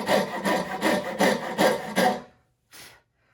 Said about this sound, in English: I can keep sawing, blowing away sawdust, following that line.